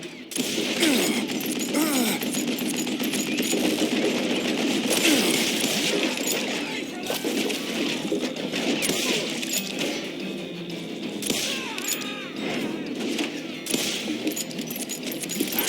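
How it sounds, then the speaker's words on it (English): A sustained fusillade of bullets in the Western shooter Call of Juarez: Gunslinger, a continuous loud clatter of gunfire and ricochets raining down without pause. "It was then that a fusillade of bullets come raining down from on high"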